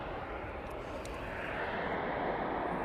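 At East Midlands Airport, a landing airplane makes a steady, broad roar at moderate distance, a continuous engine rumble with no voices over it.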